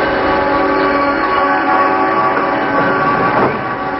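A diesel-powered freight train rolls past with steady, loud rumbling and steel wheel noise, a faint ringing tone carrying through the continuous roar, with no voices.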